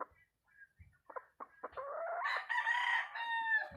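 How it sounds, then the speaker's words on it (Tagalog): A crossbreed gamecock crows loudly and close by, its long, wavering call rising after a few short clucks and scratchy sounds, with no talking. "So mga gandang manok naman yung inalagaan natin"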